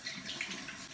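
Tap water runs steadily into a sink, a continuous close hiss and splash lasting about a second with no other sounds.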